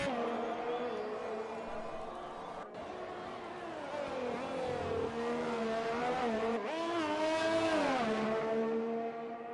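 A race car engine on a hot lap around Monaco in a racing video game, revving high and shifting through gears in rising and falling sweeps, loud and continuous throughout with faint commentary underneath.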